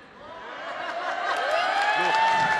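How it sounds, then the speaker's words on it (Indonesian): A seminar audience breaks into applause and chuckling, a crowd murmur that swells from quiet to fuller clapping and laughter over a couple of seconds, with voices mixed in. "Kok tepuk tangan?"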